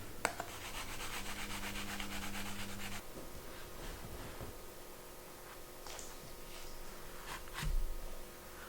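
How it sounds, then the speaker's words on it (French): A soaped leather edge on a hatchet sheath is rubbed with a piece of oak, producing a soft, steady friction swish up close with a brief low thump near the end. "J'utilise du savon et ensuite, je frotte avec un morceau de chêne."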